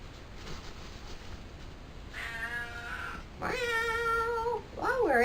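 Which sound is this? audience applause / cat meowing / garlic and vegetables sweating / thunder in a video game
cat meowing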